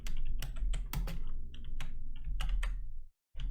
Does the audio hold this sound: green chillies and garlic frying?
no